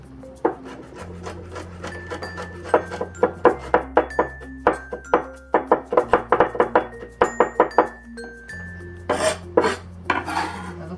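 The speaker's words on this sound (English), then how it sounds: "And next we'll mince the garlic." A knife minces garlic on a wooden board with a rapid, uneven series of close chops and knocks, heard over soft background music.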